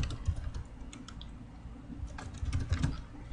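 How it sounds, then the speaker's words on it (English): Quick, light keystrokes on a computer keyboard in a short burst of typing, close and fairly quiet, with no one speaking. "type anything you want."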